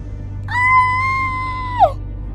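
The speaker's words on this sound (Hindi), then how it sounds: "किसी के चिल्लाने की आवाज आती है" A single drawn-out scream for a horror story, a steady high wailing tone that bends downward at the end, heard alone over a low background hum.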